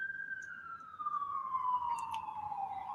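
An emergency vehicle siren wails in downtown Toronto, a single steady tone sliding slowly downward, moderately distant and faint over low city traffic rumble, with a few brief higher chirps.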